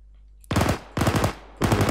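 A tank machine gun in the Arma video game with the RHS mod fires three loud, close bursts of rapid shots, each lasting about a quarter second, separated by short pauses.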